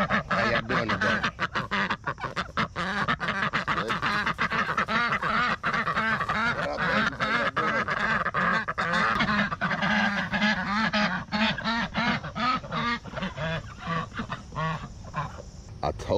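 Many ducks quack loudly and continuously, a dense close chorus of overlapping calls with a voice speaking underneath.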